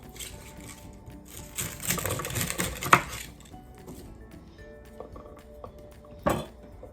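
A knife cutting the ends off asparagus spears on a board, with a cluster of chopping taps and clatter, a sharp knock, and another burst near the end.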